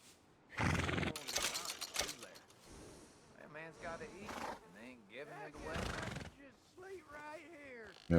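A horse in Red Dead Redemption 2 whinnies and snorts amid busy game audio, with hoof clip-clops and someone talking over parts of it.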